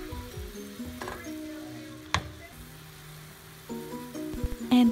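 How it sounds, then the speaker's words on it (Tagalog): Water and butter hit a hot caramel pan, giving a moderate sizzle with brief clinks and stirring noises, one sharp clink midway and louder bubbling near the end. "Maglalagay din tayo ng 1 tablespoon of butter."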